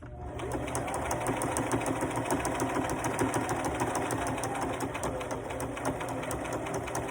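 A sewing machine runs steadily, stitching a fabric face mask with short back-and-forth passes, its fast even needle rhythm close and continuous throughout without talk.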